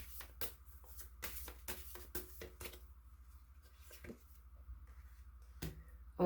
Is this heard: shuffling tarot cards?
yes